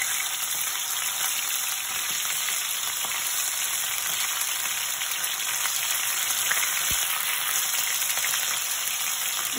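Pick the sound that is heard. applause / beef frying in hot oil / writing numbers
beef frying in hot oil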